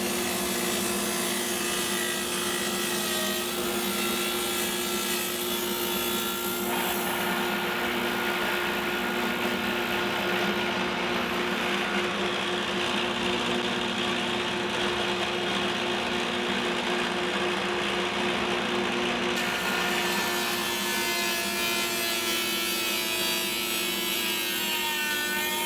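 Wooden exterior door board being cut with stopped grooves by a power tool, a continuous loud whirring, rasping cut that holds steady and changes pitch partway through, with no talking.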